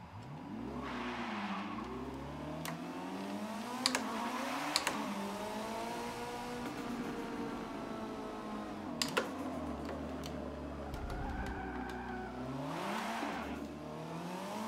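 A car engine in Forza Motorsport 7, driven with a Thrustmaster Ferrari 458 Italia racing wheel, revs up and down through repeated rising and falling pitches, with occasional tire squeal and a few sharp clicks, steady and without talk.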